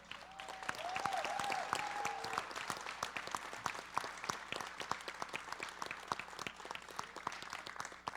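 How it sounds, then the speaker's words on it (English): Graduation ceremony crowd clapping for students at a college event, a steady patter of individual claps with a brief whistle or cheer near the start, moderately distant. "Can we give all of these students another round of applause?"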